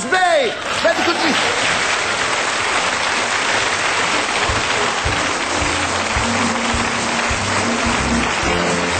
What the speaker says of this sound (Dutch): Geef een applaus.